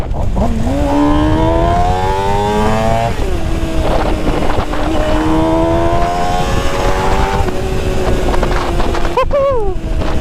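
A Suzuki GSX-R 600 sport motorcycle engine revs loudly and close, rising through the gears in two long climbing pulls with a brief drop between, then a sharp blip near the end, with wind noise throughout.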